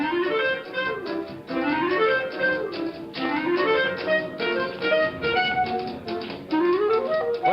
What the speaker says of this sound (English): What you're hearing is a riff, which in jazz talk means a repeated rhythmic figuration.